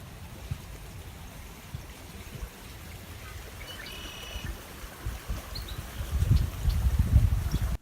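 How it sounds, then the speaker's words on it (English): Steady low rushing and trickling of running canal water in the background, growing louder and more turbulent toward the end, with no voices. "you can hear the canal running in the back"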